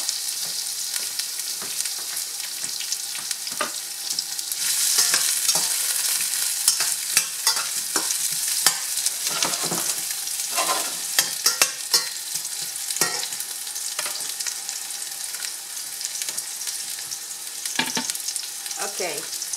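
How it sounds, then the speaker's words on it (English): Broccoli florets and stem in a vegetable stir fry sizzle steadily in a hot pan, a bright continuous hiss broken by occasional scraping and clicking stirring sounds, with no talking. "so I can start my vegetable stir fry"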